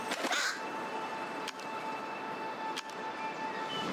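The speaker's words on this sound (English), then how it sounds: "Neither I nor my scarecrow can frighten them, but suppose, suppose they're supposedly spirits, but they behave like common crows." Crows cawing in the game Lost Lands, a few harsh calls near the start and occasional sharp clicks over a quiet steady ambient hum.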